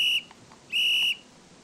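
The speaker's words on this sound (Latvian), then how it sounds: "Beidzot var atkal pasvilpt." Two shrill, steady whistle blasts, a short one and then a longer one after a brief pause, clear and close with nothing else over them.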